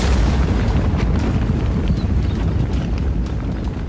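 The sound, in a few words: large explosion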